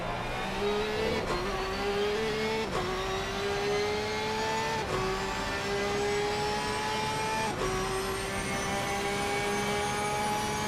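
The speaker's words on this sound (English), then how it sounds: "God, that Porsche is loud." A Porsche GT3 race car in Assetto Corsa Competizione screams loud and close, its engine pitch climbing through each gear and dropping abruptly at every upshift, with several sharp shifts in a steady run.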